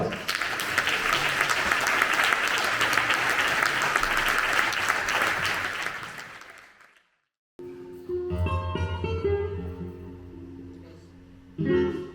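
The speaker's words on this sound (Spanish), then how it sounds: "¡Aplauso para ellos!" A crowd at a flamenco gala applauds steadily for several seconds, the clapping fading out before music starts up after a short silence.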